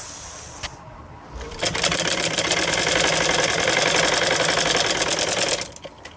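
A sewing machine runs steadily for about four seconds as it stitches a strip onto a kurti neckline, loud and close, with brief handling noise before it starts and as it stops.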